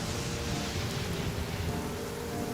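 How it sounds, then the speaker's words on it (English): Heavy rain downpour in the video game Genshin Impact, a dense continuous roar of rainfall with a low rumbling undertone, steady and loud throughout with no voices. "Quite a downpour."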